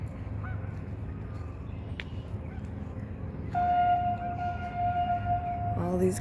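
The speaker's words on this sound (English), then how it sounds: "All these geese families out here." Geese honking near the water, a few short calls over a steady low outdoor rumble, moderately close and growing busier toward the end.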